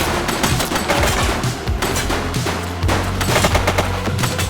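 Gunfire in The Precinct police video game, a loud dense fusillade of rapid overlapping shots and bursts sustained throughout, close and continuous.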